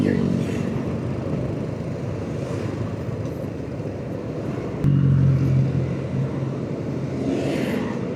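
Traffic jam heard from an Aprilia SR-GT 200 scooter: a low, steady engine hum of surrounding vehicles, with a brief louder rumble as something passes near.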